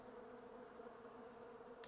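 Bees in the video game Island Beekeeper give off a steady, dense buzzing drone, quiet and unbroken for the whole moment, with no voices.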